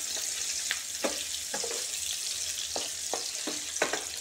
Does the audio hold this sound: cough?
no